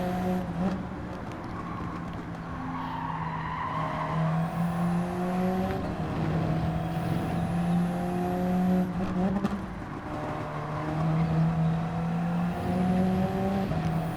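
An Alfa Romeo Group 3 race car laps Monza in Gran Turismo 7, its engine a steady, continuous drone whose pitch rises and falls with throttle and gear changes, with faint tire noise throughout and no talking.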